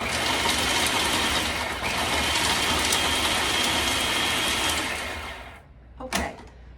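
A loud, dense grinding whir of a food processor pulsing nuts runs for about five seconds, then cuts off, followed by a couple of brief clatters.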